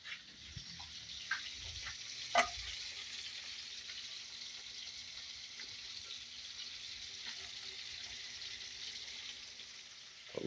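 Onion and spices fry in hot oil as a soft, steady sizzle. The oil crackles and spits in a few sharp pops, and a louder clink comes early on. Nobody speaks.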